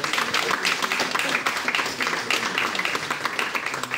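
Audience applause at a French YouTubers' evening show, a dense steady wash of many hands clapping at once, fairly loud and continuous throughout with no break.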